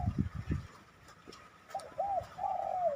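A spotted dove cooing: a few deep, soft coos close together at the start, followed by a quieter stretch and then higher, drawn-out whistled call notes over light outdoor background noise.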